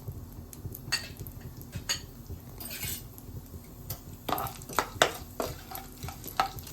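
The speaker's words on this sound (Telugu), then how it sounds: "ఆయిల్ వేడెక్కిందండి. నేను పోపు దినుసులు వేసుకుంటున్నాను." Whole spices for tempering crackle and sizzle in hot oil in a kadai, with a steady frying hiss and scattered sharp pops and spoon scrapes against the pan, close and moderately loud, with no talking.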